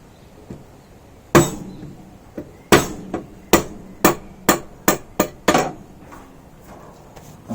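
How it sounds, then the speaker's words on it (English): A hammer strikes hard to drive out an Aprilia motorcycle head stock bearing, landing about nine sharp metallic blows that speed into a quicker rhythm toward the end. "whether or not just twatting it with a hammer was the required technique"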